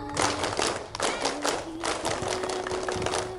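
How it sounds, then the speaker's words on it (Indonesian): A crowd at an Indonesian scout gathering claps in a rhythmic tepuk pramuka pattern, with loud, sharp, evenly spaced claps repeating throughout. "Tepuk pramuka."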